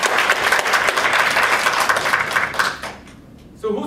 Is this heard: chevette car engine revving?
no